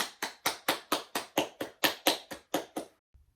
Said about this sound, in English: Please help me in giving these members a huge round of applause for all of their hard work